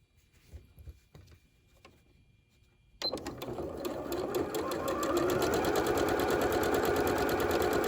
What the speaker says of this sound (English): you see on my machine, I'm sewing with 1/4 inch seam